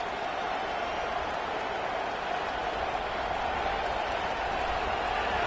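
A football stadium crowd roars steadily, loud enough to cause a false start, a dense continuous wash of distant cheering and noise that holds even across the whole stretch.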